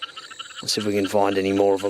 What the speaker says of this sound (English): you can hear some of the frogs calling